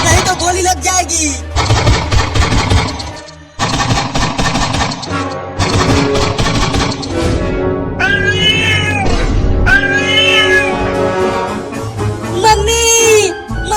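Cartoon cat meowing and caterwauling in a comedy cartoon, loud repeated meows with stretched, wavering cries, broken by short pauses and mixed with other cartoon sound effects.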